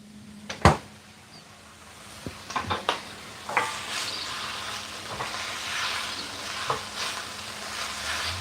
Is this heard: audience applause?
no